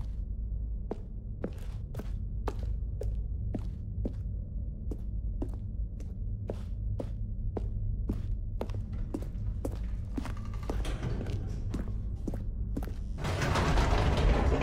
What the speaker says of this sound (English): Goodness, another elevator.